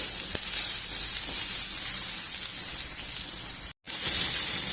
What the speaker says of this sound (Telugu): ఇంకా కొంచెం సేపు వేయించుకున్నాము ఉల్లిపాయ ముక్కల్ని.